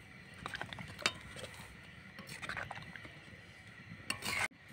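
Rasgulla pitha in milk with dissolved dry milk and semolina, gently stirred over a low flame, gives soft scraping and clinking of a utensil against the pot, with a few sharper taps and a clack near the end.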